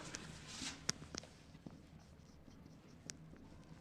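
Pen scratching on paper while a math exercise is solved, heard as faint, intermittent strokes with a few sharper taps in a quiet room, with no speech.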